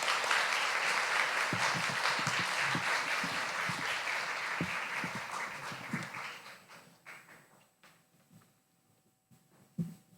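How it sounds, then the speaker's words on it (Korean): A church congregation gives hearty applause to welcome a singer at a pastor's installation service, loud sustained clapping that fades out after about six seconds, leaving quiet room noise and a few stray knocks. "나오실 때 힘찬 박수로 우리 나가겠습니다"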